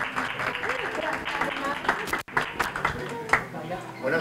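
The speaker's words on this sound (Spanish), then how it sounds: "Un aplauso para él mientras llega." A crowd claps for a guest arriving at a festival event in a care residence, dense scattered applause mixed with chatter and voices, with a short break midway before the clapping resumes.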